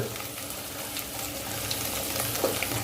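Chopped onion pieces sizzle and fry in a pan while drumstick curry is prepared, a steady soft crackle running throughout with a few light stirring clinks, close by and with no talking.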